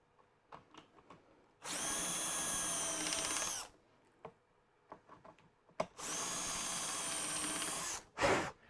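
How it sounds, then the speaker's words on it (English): A power drill whirs in two sustained bursts of about two seconds each, with a short third burst at the end and light clicks and handling noises between. "Take that off, drill the last 2 holes."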